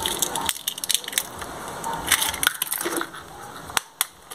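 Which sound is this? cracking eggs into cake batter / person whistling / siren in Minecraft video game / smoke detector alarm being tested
cracking eggs into cake batter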